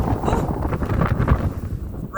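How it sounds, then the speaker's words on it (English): Wind gusts buffet the microphone on an exposed winter mountain trail near Raleigh Peak in Colorado, a loud steady rumble with swelling surges under a faint voice. "It is getting windy."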